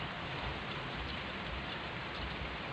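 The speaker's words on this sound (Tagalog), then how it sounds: "Hala, umulan na talaga." Steady rain falling, a dense continuous hiss of drops on surfaces, even and unbroken from start to finish.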